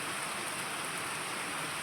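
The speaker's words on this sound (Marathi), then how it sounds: "बघू शकता मोकार पाऊस चालू आहे इकडं" Heavy monsoon rain pours down in a steady, dense hiss, close and loud, with no gaps and no voices.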